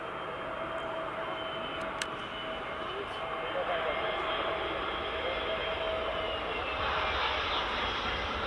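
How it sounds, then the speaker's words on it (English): A British Airways A320neo coming in to land at Edinburgh Airport in the evening, a moderate engine rumble with a faint steady whine that builds gradually as it nears. "Here's the British Airways Neo just coming into land."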